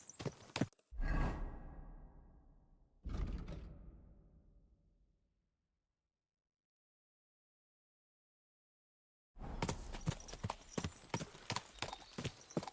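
Horse hooves clopping in the video game Kingdom Come: Deliverance II, two short bursts of steps fading out, then a long silence before a steady, rhythmic run of close hoofbeats.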